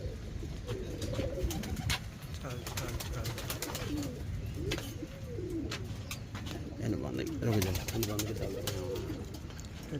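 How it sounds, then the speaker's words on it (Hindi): Pigeons in a loft give repeated soft, throaty coos that overlap in rolling waves, close by and fairly quiet, with occasional sharp clicks and shuffles. "बहुत बेहतरीन क्वालिटी के कबूतर है ये"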